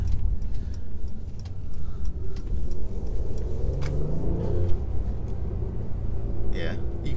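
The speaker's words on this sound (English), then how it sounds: "That engine sounds good though, doesn't it? The M276 engine." A 2019 Mercedes E450 coupe with the M276 engine runs with a steady low rumble while driving, engine drone and road noise filling the cabin under a voice talking.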